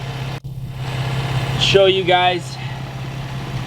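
A warmed-up Infiniti G35 engine idles with a steady low hum close by, while someone talks over it.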